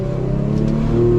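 An Infiniti G37 car cruising at night, its engine a steady, fairly loud droning hum with a constant low tone, heard from inside the cabin and carrying through the whole brief stretch without a break.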